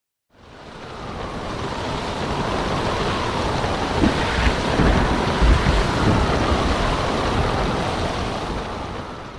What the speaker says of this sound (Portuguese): este som que estamos a ouvir, este vento e esta chuva